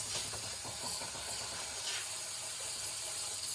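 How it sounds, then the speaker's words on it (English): Water runs steadily over strained kidney beans, a continuous close hissing rush with no pauses or voices. "you always want to strain out the kidney bean juice and clean up the kidney beans"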